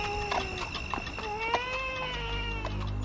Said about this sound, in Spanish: ¿Pero por qué llora un niño hasta ahora?